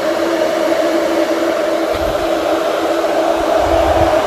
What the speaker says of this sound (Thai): พัดลมไฟฟ้าหม้อน้ำลูกนี้อยู่ข้างหลัง